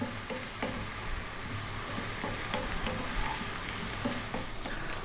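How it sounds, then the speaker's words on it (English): Seasoned cauliflower sizzles and fries steadily on high heat in a pan, with a constant bright crackle punctuated by intermittent scraping clicks of stirring throughout. "we're going to drop in the seasoned cauliflower and we're going to go for 4 minutes, staying on this lively high heat"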